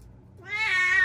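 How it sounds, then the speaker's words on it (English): A cat over 20 years old meows and cries for attention, a rising drawn-out wail that grows louder and sustains after a short quiet start. "This cat is over 20 years old."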